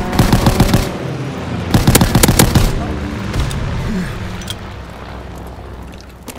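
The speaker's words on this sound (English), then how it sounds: "Fighter pilot inbound. Strafing the target." A fighter plane strafing with machine guns in the WWII game Call of Duty, loud rapid bursts of gunfire in two clusters, then fading into a low rumbling wash.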